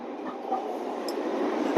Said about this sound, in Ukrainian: І ось він сучасний трамвай.